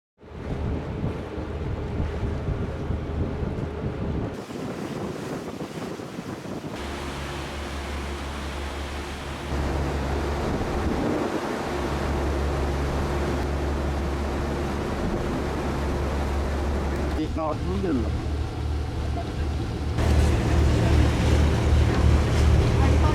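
Deep rumbling drone of a boat's engine and rushing wind and water, continuous and loud throughout, as the boat enters St. Anthony Strait near Sibenik, Croatia.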